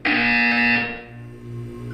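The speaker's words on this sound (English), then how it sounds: "When you hear the buzzer, look up at the ceiling." A loud electronic buzzer from the Portal 2 video game sounds once, a harsh sustained tone that cuts off after under a second and leaves a low hum behind, with no talking.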